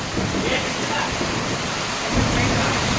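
Deep thunder rumbles on and off beneath a steady roar of heavy rain, with a louder swell near the end.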